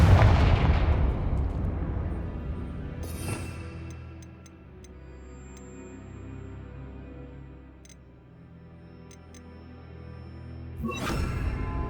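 Confringo fire spell explosions in the Hogwarts Legacy video game: a loud booming blast that decays into a rumble, a sharper crack around three seconds, then another burst near the end, with faint ticking chimes between.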